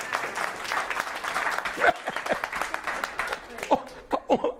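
Scattered audience clapping at a training seminar, uneven and patchy with sharp individual claps and some laughter and murmuring mixed in.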